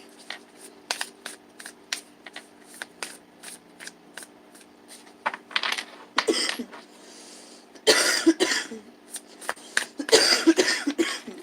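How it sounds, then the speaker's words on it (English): Several harsh, close coughs burst out in the second half, following a stretch of soft tapping and rustling clicks. "One big excuse me for all my stoner coughing"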